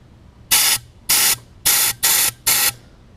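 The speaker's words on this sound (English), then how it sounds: "spray a little bit of air through there." Five short bursts of compressed air hiss from a nozzle blown through a metal carburetor on a Craftsman self-propelled lawnmower, each blast about a quarter second long with brief gaps between, close and fairly loud.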